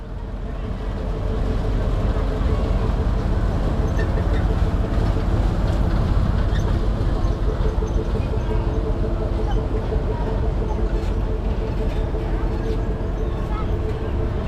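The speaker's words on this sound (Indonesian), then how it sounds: "yaitu naik kereta mini." A steady low rumble and rattle of a small mini train ride rolling along at the Ambarawa railway museum, continuous and fairly loud, with voices murmuring underneath.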